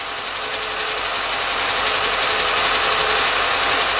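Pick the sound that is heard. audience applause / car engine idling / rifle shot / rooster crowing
car engine idling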